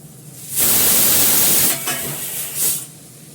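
Spice masala being sautéed in a hot pan lets out a loud burst of sizzling hiss that lasts about a second, then fades to softer frying with a brief second flare.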